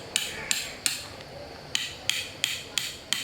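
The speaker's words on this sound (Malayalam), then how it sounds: "അപ്പോൾ ഈ കമ്പി ഞങ്ങൾ അടിച്ചിറക്കുകയാണ് താഴോട്ട്." A metal rod is pounded into damp, rain-softened ground with the back of a machete while rigging a bucket-chicken cookout, giving about eight sharp, ringing strikes in an uneven rhythm with brief pauses between them.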